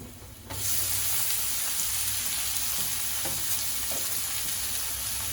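Greens dropped into a pan of fried onion, chili and garlic, setting off a sudden loud sizzle that continues steadily with faint stirring, no talking.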